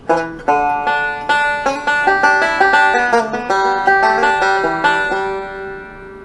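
Bright plucked banjo notes in a quick rolling bluegrass pattern, building to a closing ending run that rings out and fades at the end.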